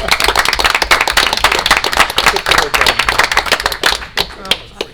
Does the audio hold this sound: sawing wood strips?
no